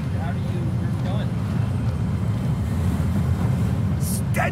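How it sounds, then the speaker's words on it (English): Strong wind in Hogwarts Legacy makes a constant low, rumbling roar that stays steady throughout, with speech over it. "That is very windy."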